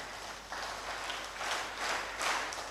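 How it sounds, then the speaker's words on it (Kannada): An audience claps in applause at a speech gathering in Dharmasthala, a dense broadband patter that swells in several waves over a few seconds. "ಒಪ್ತೀರಿ ಅಂತಾದ್ರೆ ಚಪ್ಪಾಳೆ ಹೊಡೀರಿ"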